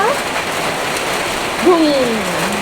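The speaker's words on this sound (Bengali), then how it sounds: "বৃষ্টিটা পড়া শুরু হলো এখন, ভালোই পড়তেছে।" Rain beginning to fall during a sudden Kalbaishakhi storm, a steady broadband hiss of drops on surfaces with a brief tonal whine passing through partway.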